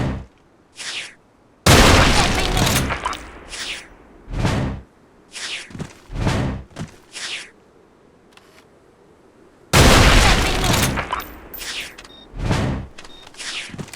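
Barrett sniper rifle shots in the online shooter Special Force 2, heavy booming reports with a long ringing tail, two big blasts separated by several seconds, with smaller bursts of game sounds scattered between, no talk.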